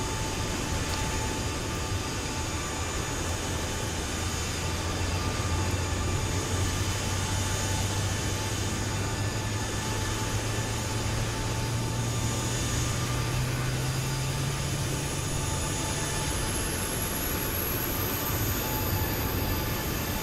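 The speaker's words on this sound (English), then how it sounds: "that is the sound of the auxiliary power unit" The auxiliary power unit of a PMDG 737-800 in Microsoft Flight Simulator runs as a steady, loud whine and roar, with a low tone that slowly rises in pitch as it spools up. No voices are heard.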